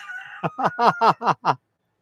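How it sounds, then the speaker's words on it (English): A rooster crows loudly and close by during a live show, a series of five rhythmic bursts of harsh crowing and clucking that follow a brief held tone, then silence. "I had no idea that we would be having a singing rooster during tonight's show"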